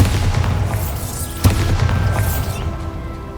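Bombarda blasting spell detonating in the Hogwarts Legacy video game on PC, a loud booming explosion with a sharp central crack, then rumble and lighter bursts trailing away.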